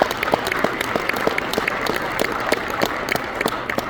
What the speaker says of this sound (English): that's what deserves a round of applause